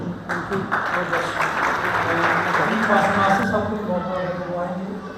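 Applause at a Mothers Day church celebration in Pakistan, dense sustained clapping from a gathered crowd with voices talking and calling out over it.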